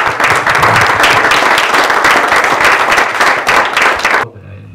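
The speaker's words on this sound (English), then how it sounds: "applause, please" Dense crowd applause at a public gathering on homelessness, loud and continuous with many overlapping claps, then cutting off sharply near the end to quiet room tone.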